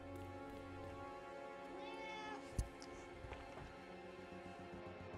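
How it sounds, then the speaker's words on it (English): A cat meows in the video game Hitman 2, one clear mewing cry over a steady hum, followed by a sharp thump and faint background game sounds. "I got a cat on my lap."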